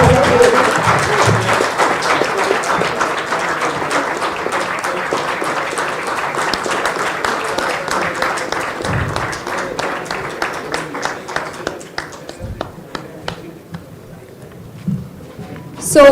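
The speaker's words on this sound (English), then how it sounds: "I'd like a huge round of applause for ICT representatives" A large audience at a university felicitation function honoring a professor claps loudly and steadily, the dense applause thinning into scattered claps near the end before a brief final burst.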